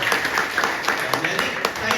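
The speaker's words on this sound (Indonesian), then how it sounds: "Kasih tepuk tangan yang buat teman-teman." An audience claps in scattered, uneven bursts while a speaker's voice carries on over the applause.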